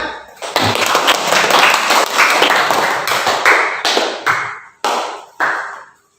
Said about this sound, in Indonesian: Dari kelompok 1, tepuk tangan.